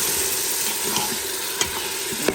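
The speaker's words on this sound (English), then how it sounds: "I have stir fried this meat for 2-3 minutes with this all spices" Meat stir-frying in a pot with about six spices for a chana dal gosht dish, a steady broad sizzle running throughout with a few sharp scraping stirs standing out near the end.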